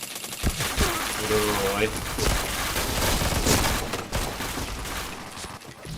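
Rapid bursts of gunfire from the online shooter Point Blank during a chain of headshots, dense and continuous under excited talk from players.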